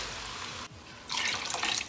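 Water streams briefly, pauses, then pours again in a louder gushing splash into a cooking pot, close by.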